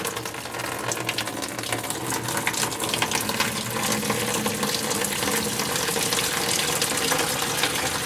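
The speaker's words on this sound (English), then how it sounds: "lift that drain plug out slowly. And let the sink drain here." Water drains steadily out of a newly plumbed kitchen sink once the drain plug is lifted, a continuous close gurgling rush that holds at an even level throughout.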